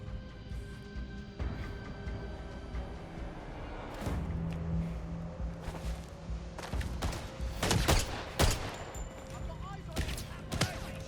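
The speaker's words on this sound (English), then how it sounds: "Who's shooting me?" Gunfire in the spy shooter game 007 First Light: scattered shots and bursts of fire, several sharp loud cracks clustered near the end, with game ambience and a voice talking over parts of it.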